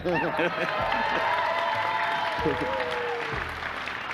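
Scattered clapping from an audience at a Borderlands 3 gameplay demo rises in a brief wave of cheering while a voice carries on talking over it.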